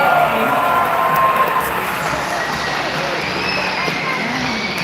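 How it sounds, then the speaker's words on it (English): A large audience applauds and cheers at a dolphin show, a dense, steady wash of clapping and crowd noise that holds for the whole stretch, with some voices mixed in. "How about a round of applause for all 6 of our male dolphins for getting our show started today?"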